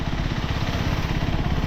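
A KTM 390 Adventure motorcycle engine runs steadily in third gear at low speed on a city ride, a close, continuous throbbing drone with a fairly even pulse throughout and no voices.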